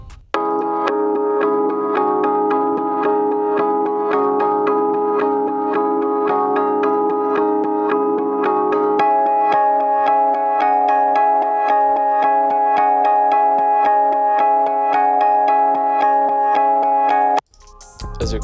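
Omnisphere bell melody pitched up 200 cents, run through a Doppler effect with EQ cutting the lows, playing as a continuous ringing pattern that changes register midway and stops abruptly near the end.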